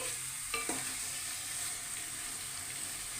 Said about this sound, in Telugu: సో మెల్లిగా ఆ పేస్ట్ అనేది చేపల మీదకి వచ్చినట్టు లైట్గా కలుపుకోవాలి